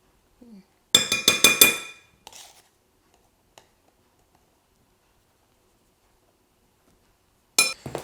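A spoon clinks against a bowl while flour, salt and baking powder are mixed for scones: a quick run of five or six close, bright clinks, a softer tap after, then quiet until a final short burst of clinking.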